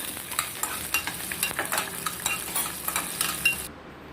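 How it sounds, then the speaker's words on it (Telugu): Curry leaves and green chilies crackle and sizzle in a few spoonfuls of oil in a small pan. A spoon scrapes and knocks against the metal in quick, uneven strokes. The sound cuts off abruptly near the end. "ఇందులో ఒక 2 స్పూన్లు ఆయిల్ వేసుకుని కరివేపాకు, పచ్చిమిర్చి వేసుకొని కొంచెం వేపుకుందాం"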